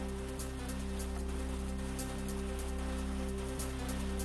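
Heavy rain falling over farmland in the Loha Kavthi area of Nanded, a dense, steady wash of rain noise that stays constant throughout, with no voices.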